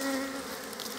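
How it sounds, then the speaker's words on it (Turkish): Honey bees buzz steadily at a hive entrance during autumn hive maintenance, a close, continuous droning hum with no talking. "Böylece polen getiren arılar içeriye girebiliyorlar."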